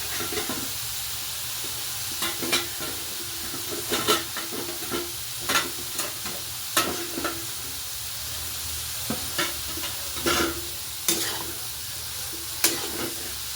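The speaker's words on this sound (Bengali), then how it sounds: "ভালো করে মিক্সড করে নেওয়া হচ্ছে।" Fish heads frying in a pan are stirred, giving repeated scraping clatters at an uneven pace over a steady, close sizzle.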